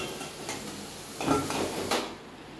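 Fried potatoes are lifted out of hot oil in a pan, with a couple of short metal scrapes and clinks over a faint, steady sizzle.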